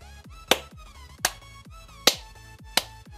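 Four loud, sharp hand claps spaced about three quarters of a second apart, each a crisp isolated burst, close by. They are being used to test an analog sound sensor wired to an Arduino.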